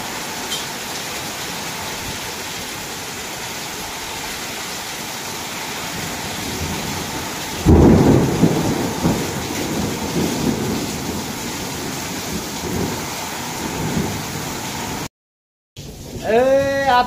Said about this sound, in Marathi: आत्ताशी पाऊस बंद झाला तरी गरजत आहे बरं का.